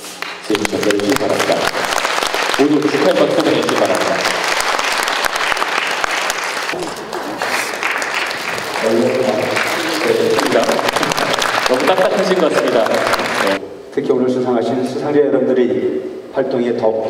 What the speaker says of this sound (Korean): 모두 시청해서 큰 박수 보내주시기 바랍니다.